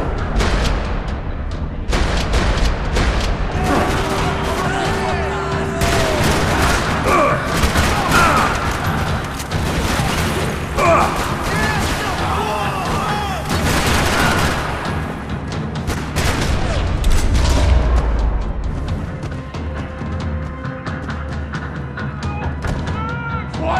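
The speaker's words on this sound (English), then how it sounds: "Another parking lot rattling with gunfire." Sustained bursts of Max Payne 3 gunfire in a parking lot crackle and boom throughout, with rapid shots and explosions layered over a dense, loud battle soundtrack.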